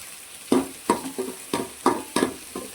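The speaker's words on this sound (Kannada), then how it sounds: "ಈರುಳ್ಳಿದು ಕಲರ್ ಚೇಂಜ್ ಆಗೋ ತನಕ ನಾವು ಫ್ರೈ ಮಾಡ್ಕೋಬೇಕು." Onions fry in a pan for sardine masala while a spatula stirs them in about seven regular scraping strokes. Each stroke brings a close burst of sizzle over a softer hiss, with no talking.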